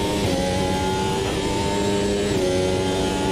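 Racing car in Automobilista 2 porpoising and grounding out, its engine droning steadily with wavering revs as the car bounces on a straight, loud and continuous throughout.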